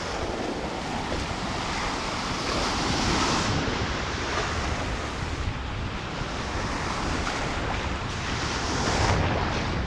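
Ocean surf at South Padre Island at sunrise, heard as a constant loud roar of breaking waves mixed with heavy wind buffeting against a GoPro 6 camera.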